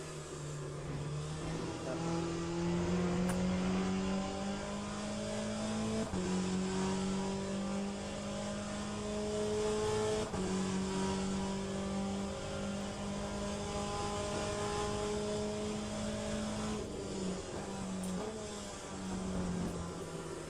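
A race car engine in the Le Mans Ultimate sim racing game, lapping Sebring, drones and climbs steadily through the gears with repeated upshifts, loud and continuous throughout with no talking.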